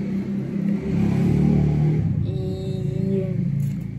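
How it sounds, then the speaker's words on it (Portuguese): A motorcycle passes on a nearby street, its engine rumble swelling to a peak and then fading over a few seconds, with a rising whine near the end. "a moto tá passando"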